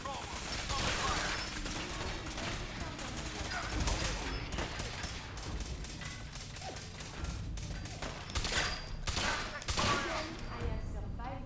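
Gunfire in combat in the video game Fallout 4, with bursts of automatic fire and repeated shots crackling steadily throughout, heavier volleys near the end, under intermittent talk.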